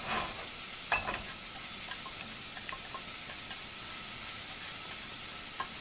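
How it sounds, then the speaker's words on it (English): Green chilies sauté in a hot pan, giving a steady soft sizzle with occasional light clinks of stirring. "After add the green chilies, just saute for 3 minutes."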